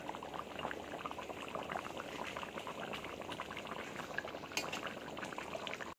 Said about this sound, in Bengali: এই যে ঝোলে মাছগুলো দিয়ে দিলাম মাছগুলো দেওয়ার পরে আরও কিছুক্ষণ ফুটিয়ে নেব